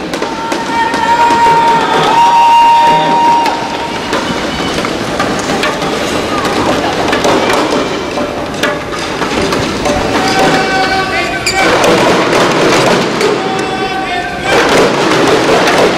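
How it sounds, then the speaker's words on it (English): Arena crowd at a badminton group-stage match, Axiata Cup 2012, a steady broad roar of cheering and urging that swells in waves throughout, with faint squeaks and shuttle sounds and commentary talk over the top. "The crowd egging on"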